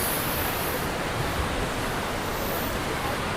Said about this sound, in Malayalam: ഭയങ്കര ഒഴുക്കാ